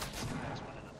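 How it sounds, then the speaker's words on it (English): Gunfire in the Fortnite Battle Royale 50v50 mode: a dense, continuous burst of shots across the clip at steady loudness, ending in a sharp louder crack, with no talk. "I just shot a couple bullets."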